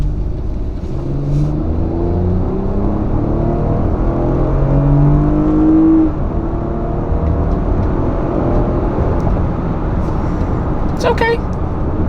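A 2019 Lexus RX 350 accelerates in a pull from inside the cabin, its engine drone rising steadily in pitch for several seconds, then easing back into a smooth, steady road hum.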